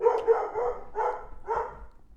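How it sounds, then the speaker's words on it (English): A dog barks excitedly in three or four loud, close bursts spread over two seconds, with no talking over it. "The dog's going crazy."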